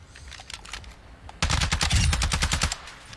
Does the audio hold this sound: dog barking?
no